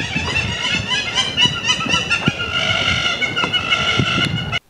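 Hammerkop birds at a lake in Awasa, Ethiopia keep up a noisy chorus of repeated, nasal, piping calls in quick rhythmic bursts. The calling is loud and close and goes on without a break.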